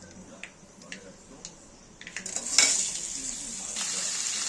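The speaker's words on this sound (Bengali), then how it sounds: "এই অবস্থায় এখানে আমরা ধুয়ে রাখা কুমড়ো আলুগুলো আমরা কড়ার মধ্যে দিয়ে দেবো।" Washed pumpkin and potato pieces drop into hot oil in a kadai wok: light clicks of a utensil at first, then a sudden loud hiss of frying that settles into a steady sizzle, close by.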